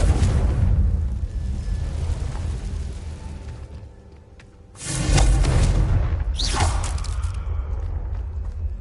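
A Confringo blasting spell going off in Hogwarts Legacy: a loud, booming explosion that rumbles and fades, then a second heavy blast bursts in with crackling debris, close and forceful.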